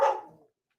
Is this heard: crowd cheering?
no